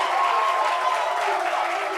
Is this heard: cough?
no